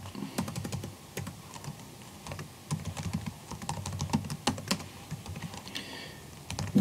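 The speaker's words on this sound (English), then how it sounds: "Let me type." Typing on a computer keyboard, a close, quiet run of uneven key clicks and taps with short pauses between bursts, no talk.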